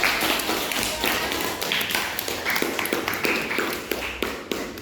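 Applause from a classroom audience at the end of a group presentation, a dense steady patter of many hands clapping throughout, moderately loud with some louder taps standing out.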